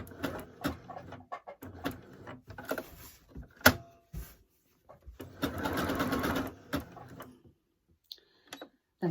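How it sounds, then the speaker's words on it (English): A sewing machine stitches down the bottom edge of an appliqué flame on a Christmas candle table runner, running in several short bursts and one longer steady run, close and fairly loud with no talking. "Just sew the bottom of the flame."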